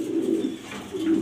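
Grizzle racer pigeons, female birds, cooing close by in a low, soft burbling call that swells twice over a brief moment, with no talking.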